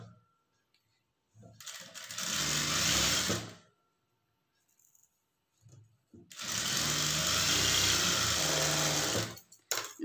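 A sewing machine runs in two steady bursts while stitching a blouse front panel in a beginner's tailoring session, loud and close, with a quiet gap between runs.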